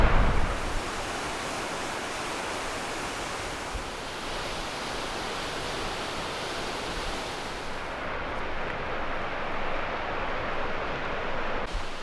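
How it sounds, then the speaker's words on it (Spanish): Waterfall in East Iceland heard from a viewpoint, a steady loud broadband rush of falling water with wind mixed in, continuous throughout without talk. "Y aquí está la cascada."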